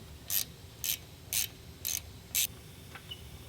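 Five evenly spaced ratchet bursts, each a short crisp metallic clicking run, as a ratchet backs out the 18 mm lower shock mount bolt on a 2017–2019 Ford F-250 Super Duty during a leveling kit install, close up with no talk.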